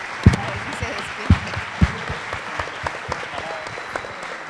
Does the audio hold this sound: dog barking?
no